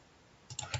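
A few soft, quick computer mouse clicks close by, quiet against a faint background.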